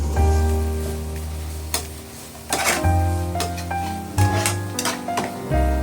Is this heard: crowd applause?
no